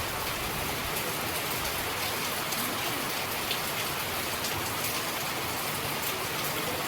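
Steady rain falls without pause, a dense and even hiss of drops striking the surfaces nearby, with no voices over it.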